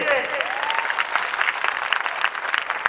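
A crowd clapping hard at a Shrimad Bhagavat Katha gathering led by a woman storyteller, dense and continuous applause filling the hall with a faint tone sliding under it at the start.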